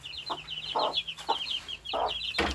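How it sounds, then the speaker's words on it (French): A partridge-coloured hen clucking close by in several short, low bursts, while her newly hatched chicks keep up a steady high peeping throughout. "ma petite poule perdrix là, ma toute petite"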